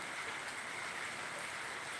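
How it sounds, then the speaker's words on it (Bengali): Heavy rain pours down in a dense, unbroken roar that stays constant and fairly loud from start to finish, with no voices. "প্রচণ্ড পরিমাণে বৃষ্টি হচ্ছে প্রচণ্ড পরিমাণে"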